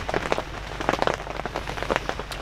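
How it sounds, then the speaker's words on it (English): Heavy rain pours steadily outdoors during a late-season turkey hunt, a dense, close patter of drops drumming on a surface with no voices. "It's supposed to rain all day from now on."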